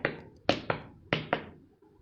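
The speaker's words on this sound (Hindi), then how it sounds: "एक दिन क्या हुआ, उसको खटखट की आवाज सुनाई पड़ी।" Knocking on a door in a Hindi children's story about plants: two sharp raps, a pause, then two more, each a clear hollow tap close by with no talk.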